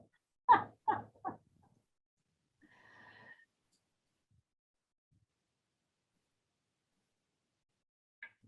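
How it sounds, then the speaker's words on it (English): A dog comes into the room, giving three quick close snorts followed by a soft nasal whimper or wheeze, then near silence with a faint final snuffle. "here comes my dog"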